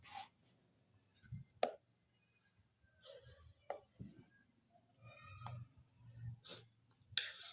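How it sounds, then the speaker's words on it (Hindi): Faint, scratchy bursts of a pen writing notes during a physics lesson on static electricity, with short strokes and taps separated by quiet gaps and no talk. "अब इसको यहाँ पे लिखते हैं।"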